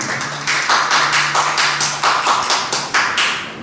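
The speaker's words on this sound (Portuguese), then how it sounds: "Pode aplaudir o Senhor, que Ele merece toda a honra e toda a glória." A church congregation claps together in praise, a steady run of rhythmic, fairly loud claps that swell and fade over several seconds, with no talk over them.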